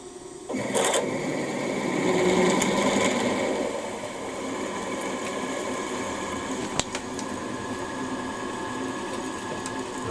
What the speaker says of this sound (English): And we can drill the next one.